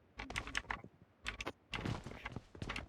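Clicky keystrokes from a mechanical keyboard with blue switches, in quick bursts of several taps separated by short pauses, close and fairly crisp.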